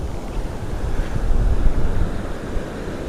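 Sea waves wash steadily onto Mandarmani beach on a sunny afternoon, with a continuous rumbling surf and gusty wind buffeting the microphone, and no voices.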